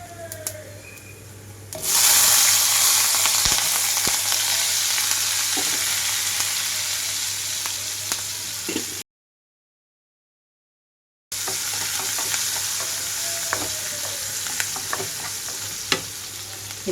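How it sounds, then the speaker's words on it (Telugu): Sliced onions and green chilies hit hot tempering seeds for spinach dal and sizzle loudly and steadily up close, with stirring scrapes throughout and a brief total dropout partway through. "తాలింపు అంతా చిటపటమనేదాకా వేయించుకుంటున్నాను"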